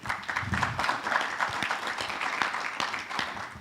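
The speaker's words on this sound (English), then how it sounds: "please give them a big round of applause for being here." An audience at a Junior Achievement Africa student competition and trade fair applauds award judges, with a moderate, sustained patter of clapping throughout, fairly even and somewhat distant.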